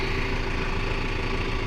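A New Holland tractor engine idling with a hitched bush hog: a steady, close, low rumbling drone with even texture throughout.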